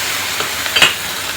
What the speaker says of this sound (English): my carrots are boiling over